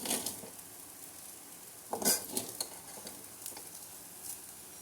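Cooked rice and fried onions being stir-fried together in a pan for fried rice. Quiet, soft scraping and stirring strokes sound with a faint sizzle, and a couple of brief louder scrapes come from a utensil.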